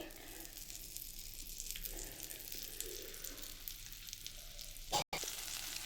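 A spoonful of butter melting in a kadai over a gas flame, giving a soft continuous sizzle with faint clinks, then a brief loud knock and a sharp cut near the end.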